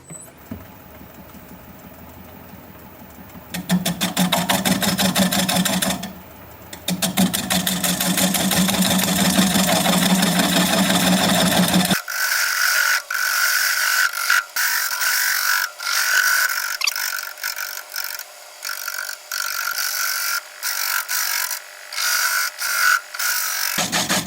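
Wood lathe spinning a cherry burl blank at 360 RPM, a steady loud mechanical hum that shifts abruptly partway through to a brighter, scratchier whir with intermittent cutting or sanding bursts.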